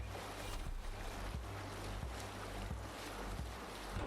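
Viking sailing ship at sea in Assassin's Creed Valhalla: steady wash of wind and water with rhythmic creaks or oar strokes knocking about every two-thirds of a second, continuous and fairly quiet, no talk.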